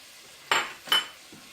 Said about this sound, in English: the pan was preheated, so you can already hear it start to sizzle